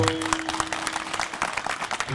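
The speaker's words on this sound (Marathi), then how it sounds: "वाजवाना टाळी वाजवाना" Applause from an audience at a kirtan performance, a steady dense wash of clapping lasting the whole short stretch, close and fairly loud.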